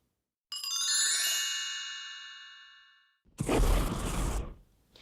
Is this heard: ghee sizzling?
no